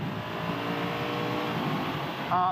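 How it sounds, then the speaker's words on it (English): 2017 Honda Africa Twin DCT motorcycle accelerating hard at full throttle, its engine note rising steadily in pitch as a loud, close drone, with a quick gear change near the end. "I want to overtake, so I give it a big boot to throttle"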